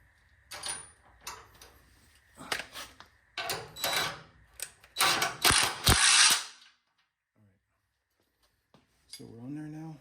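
Ratchet wrench tightening a bolt and washer on a 1971 Dodge D100 Sweptline pickup, several bursts of rapid clicking with metallic clanks close by, then a near-silent gap and a brief voice at the end.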